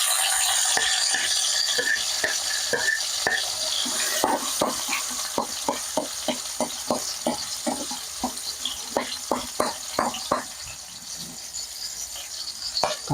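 Garlic and onion sauté in a pan for a fish-in-sauce dish, a steady bright sizzle running throughout with a regular series of sharp clinks from a utensil stirring and scraping the pan, close and fairly loud, no voices.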